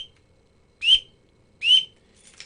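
Two short, high, sharp whistle peeps from a duck call imitating a green-winged teal drake, spaced under a second apart, followed by a fainter third chirp, close and clear in an otherwise quiet setting.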